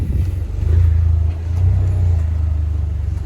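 Vanderhall car engine with a fault, given gas: a steady low rumble close by that swells slightly twice, with no clear rise in revs.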